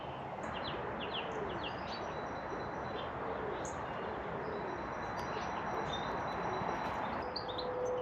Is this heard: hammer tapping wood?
no